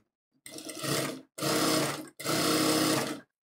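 A sewing machine stitches a sixteen-panel kalidar lehenga in three close, steady runs of rapid whirring, separated by brief pauses, with no talk.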